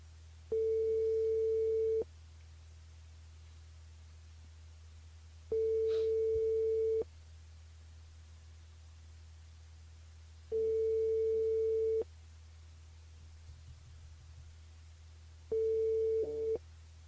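Telephone busy signal heard while a caller tries to get through to a live radio call-in game show: four steady, clear tone bursts separated by long silent gaps, with no voices.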